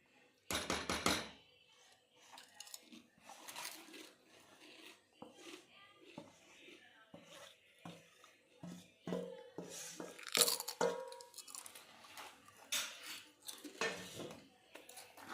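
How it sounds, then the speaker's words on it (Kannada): Jholad uppitu, a flour upma, being stirred in a pan, with a run of irregular scraping and clinking of a spoon against metal, close and moderately loud, while someone talks over it. "ಈಗ ಈ ಥರ ನೀವು ಕಲಿಸ್ಕೋಬೇಕು, ಜಲ್ದಿ ಕಲಿಸ್ಕೋಬೇಕು"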